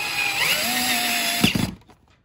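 A power drill whines steadily at close range, driving a screw into a massage chair, its pitch wavering, then sputters in a few short bursts and stops, leaving quiet.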